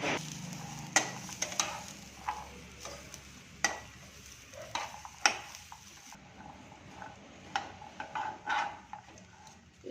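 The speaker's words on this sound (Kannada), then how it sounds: "ಈಗ ಕಡ್ಲಿ ಹುರಿದು ತೋರಿಸ್ತೀನಿ ನಿಮಗೆ" Raw chickpeas roasting dry in a pan while being stirred: scattered sharp rattles and scrapes of the legumes against the metal over a quiet background, irregular and moderately close, with no voices.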